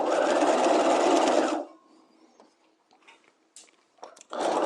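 A sewing machine stitches a combined neckline and armhole facing, running in a loud steady burst, then stopping for quiet handling noises before starting up again.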